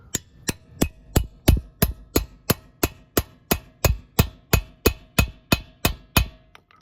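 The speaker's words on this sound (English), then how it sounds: "you hammer the heck out of it" Hammer blows driving a socket onto a stuck lock nut on an old Ford parked for 25 years, about sixteen sharp metallic strikes in a steady, evenly spaced rhythm, loud and close with no talk.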